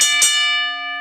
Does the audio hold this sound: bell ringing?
yes